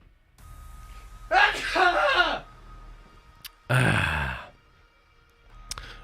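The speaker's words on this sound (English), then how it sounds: "Now I'm going to sneeze." A single sharp sneeze bursts out, followed by breathy exhales and a second short burst, close to the microphone.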